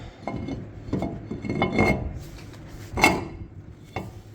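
A new brake disc is set onto the front wheel hub of a 2017 Kia Soul, giving a few close metallic scrapes and clinks as it is lined up, with one sharper clank near the end.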